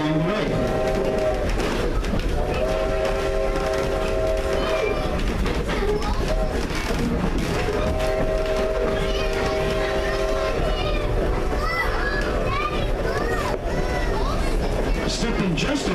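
A Strasburg railroad train rolls along the track past farmland, a continuous rumble with rhythmic clatter, while children chatter and a voice talks nearby throughout.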